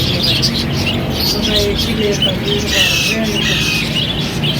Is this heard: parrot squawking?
yes